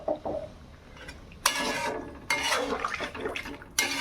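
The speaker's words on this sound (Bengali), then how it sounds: "জল দিয়ে দেবো পরিমাণ মতন।" Water poured into a simmering curry in a pan, several bursts of splashing and pouring with short pauses between them, moderately close and fairly quiet.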